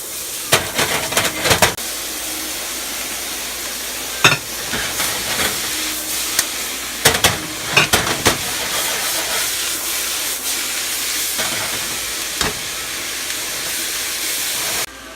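Snow peas and vegetables stir-fry in a hot pan with yellow curry powder to come, a continuous loud hiss broken by sharp clatters and scrapes from tossing and stirring.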